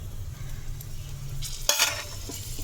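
Cumin, green chili and peanuts hit hot oil in a pan: a quiet low hiss builds, then a sudden bright crackling sizzle bursts out near the middle and settles into a steady frying hiss.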